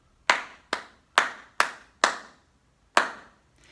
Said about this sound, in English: Can you clap it for me?